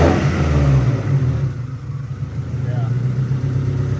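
Acura Integra engine revving with its throttle stuck open, a loud, close roar that slowly eases to a steady high drone, with people talking over it.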